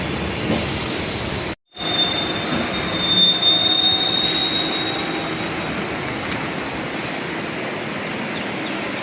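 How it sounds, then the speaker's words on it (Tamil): A Chennai MRTS metro train bound for Chennai Beach sits at a station, a steady loud rumble with a thin high wheel squeal running through the middle and a brief dropout early on. "சென்னை கடற்கரை செல்லும் மெட்ரோ ட்ரெயின் நிற்குது."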